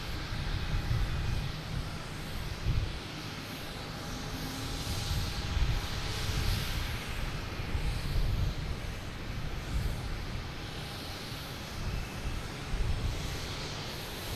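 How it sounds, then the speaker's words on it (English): A JetBlue Embraer E190 jet takes off at Boston Logan Airport, a steady broadband engine roar heard from a distance that holds evenly throughout with slight swells and no talking. "JetBlue taking off at E190 heading to DC"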